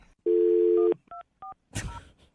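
A phone keypad sounds a long steady tone followed by two short separate beeps as the phone is set to mute, then a brief rustle, loud and close.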